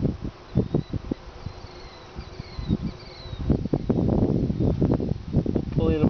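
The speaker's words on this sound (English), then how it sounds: "Here come some bees right now." Honeybees buzz around a hive as a queen bee is released from her cage, a soft droning hum under close handling thumps and rustles that grow busier toward the end, while someone speaks.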